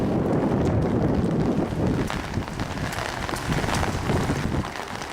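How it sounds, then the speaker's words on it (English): Rain falls at night in a windy outdoor car park, a steady close patter and hiss of drops mixed with low rumbling wind buffeting the microphone throughout, and nobody speaks. "It's windy. It's raining."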